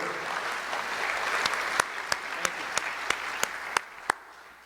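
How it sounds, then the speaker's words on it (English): Applause at a high school sports Wall of Fame ceremony, a soft, steady wash of crowd clapping with a few sharper, distinct claps standing out near the end. "I think that deserves a round of applause also"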